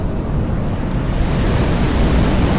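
Loud, continuous roar of ocean waves and surf from a Roblox tsunami game, a dense noisy wash with no talking over it.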